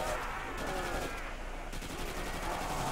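Rapid gunfire from Call of Duty: World at War Zombies on a custom map, dense overlapping shots and automatic bursts running continuously at moderate level over game noise.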